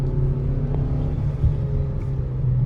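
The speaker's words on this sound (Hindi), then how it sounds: "ये देखो शोर देखो इंजन में" Steady, close petrol engine drone and low rumble from inside a 2026 Kia Seltos while driving, continuous and moderately loud, with no speech heard.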